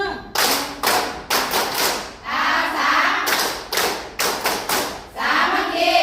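A group of village health volunteers claps in unison, sharp loud bursts of rhythmic claps in quick sets separated by short pauses, close and strong, with faint voices between bursts.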